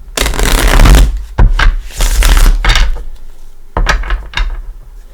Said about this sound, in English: Pre-shuffled, but give him a shuffle or two.